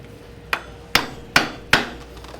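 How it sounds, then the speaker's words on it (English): Four sharp, evenly spaced hammer strikes drive a metal spike, each a crisp close impact with a short ringing decay, in a quiet workshop with no talk. "Then I'm going to drive a spike in the other side."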